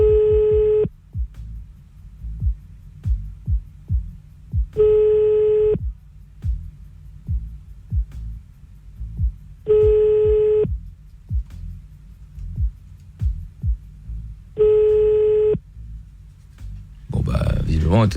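Telephone line tones on a radio call-back: four evenly spaced tone bursts about every five seconds, clear and loud, with low thumping noise between them and a voice breaking in at the very end.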